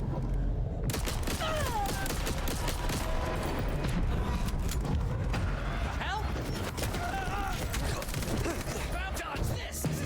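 In Vampire the Masquerade Bloodlines 2, gunfire crackles in a dense, continuous barrage of sharp shots with mechanical clatter. Someone talks over it.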